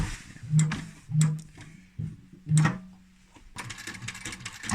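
A heavy-duty industrial upholstery sewing machine stitches a fabric cushion cover in short mechanical bursts, three distinct runs with pauses between, a steady motor hum and clatter, close and clear, ending in a longer rattling stretch.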